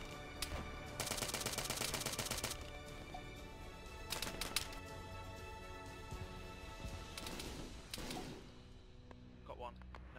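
Bursts of automatic gunfire and single shots ring out in a nighttime firefight in ARMA 3, several sharp volleys of varying length separated by short gaps, close and loud, with a voice speaking briefly in between.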